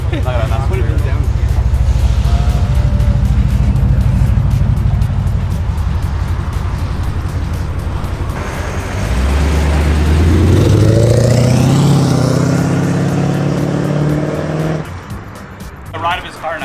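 A Porsche GT3 RS with traction control off accelerates hard, its loud engine note climbing steeply in pitch through a rising sweep, following a steady rumbling idle and rev, close to the microphone.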